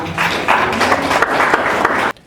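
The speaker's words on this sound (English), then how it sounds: "A round of applause for that." Quiz-show audience in a secondary school tech challenge breaks into dense, steady applause for about two seconds, loud and sustained, then cutting off abruptly into near silence.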